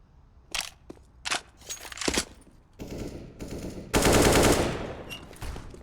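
A player in Counter-Strike on the Overpass map, during an ESEA Open playoff match, sprays gunfire at two opponents: loud, close rapid bursts and sustained automatic fire in several volleys, without talk.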